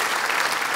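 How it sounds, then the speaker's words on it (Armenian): A studio audience claps in a short, dense burst of applause, close and even across its brief length. "մի հատ բարձր ծափարենք"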